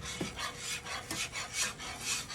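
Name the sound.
whisking mac and cheese sauce with heavy cream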